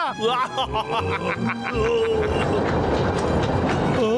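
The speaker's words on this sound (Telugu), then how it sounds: "ట్రైన్ వస్తుంది." A train rolls in over the tracks, its horn wailing as the rumbling clatter grows louder and steadier.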